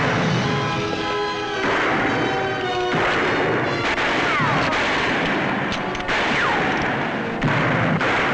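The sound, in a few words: gunfire in a western shootout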